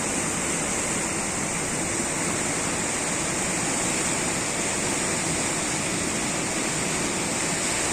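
Flood water rushing in the Thamirabarani river, a loud, dense and unbroken roar of fast-moving water that holds steady throughout, with no voices over it.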